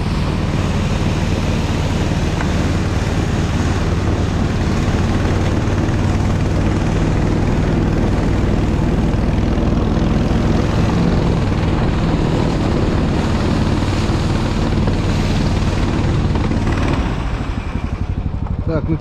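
Snowmobile engine revving and driving away across a frozen forest lake, a loud, steady droning roar that holds for most of the stretch and then drops off at the end.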